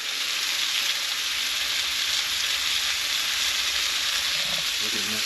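A steak sizzles on a Camp Chef Deluxe stove while stealth camping, a steady, close, even hiss of frying fat that holds throughout.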